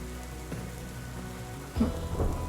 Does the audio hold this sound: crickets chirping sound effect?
no